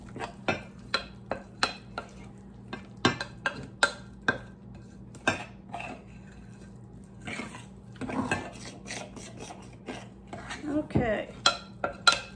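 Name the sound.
mixing zucchini bread batter in a bowl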